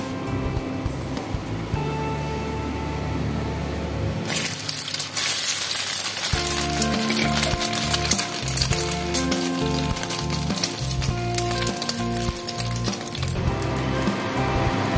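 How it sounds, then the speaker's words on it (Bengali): Food frying in hot oil in a pan, turned over on both sides, gives a steady sizzling hiss under continuous background music. "এইভাবে উল্টে পাল্টে তো ভেজে নিয়েছি"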